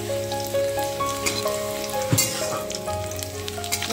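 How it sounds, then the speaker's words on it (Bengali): Garlic frying in a pan for a garlicky spinach dish, a steady close sizzle and crackle running throughout with a brief scrape of stirring midway and no talk over it. "রসুনটা খুব ভালো করে ভেজে নেব"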